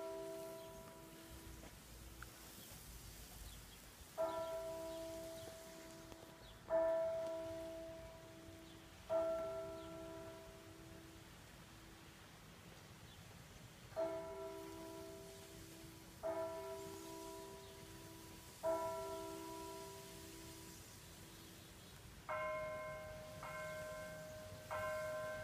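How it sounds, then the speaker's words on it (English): Church bells of St. Thomas Aquinas Church ringing the Midday Angelus, a recorded bell sounding in spaced groups of three strikes with long ringing decay between, then a final faster run at a higher pitch, moderately distant and clear. "For a recording of a bell, this sounds actually pretty real."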